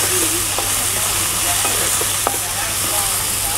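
Onions and tomatoes frying in a pan while being stirred, a steady close sizzle with scattered light scraping and clinks of the spoon, continuous throughout with no talking.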